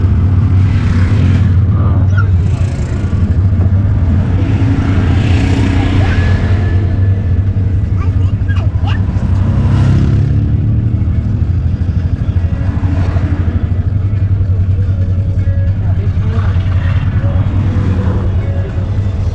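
Road traffic rumbles steadily past on a road under construction in Monrovia, Liberia, with cars and motorcycles passing close and loud, engines droning and occasional revving, mixed with faint clatter and some distant voices.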